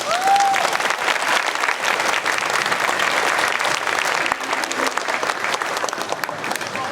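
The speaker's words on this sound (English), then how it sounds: "let's go ahead and give him a big round of applause" A large audience applauds at a middle school orchestra winter concert, loud sustained clapping that holds steady for several seconds, with a brief voice at the start.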